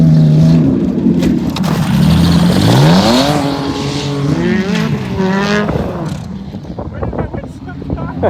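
A rally race car roars close by, its engine note climbing and dropping through gear changes as it passes loud and near, then fading toward the end.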